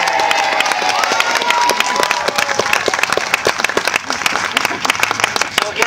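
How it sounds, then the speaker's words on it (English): Audience at a governor's health awareness event cheering and applauding, dense steady clapping with a few whoops and shouts rising over it, loud and sustained throughout. "you need to cheer."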